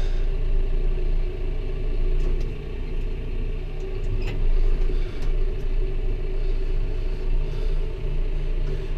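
A farm tractor backs out at hay time, its low engine rumble steady and close throughout, with a faint, even drone and no talk.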